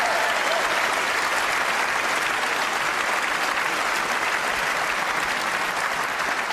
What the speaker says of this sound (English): Give yourself a massive round of applause, ladies and gentlemen, for the wonderful work you've done this year.